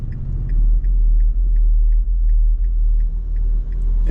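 Deep booming car stereo bass thumping from a car behind a 2024 Nissan Frontier Pro-4X, heard from inside the cab as a heavy low throb over road rumble, with faint regular ticks above.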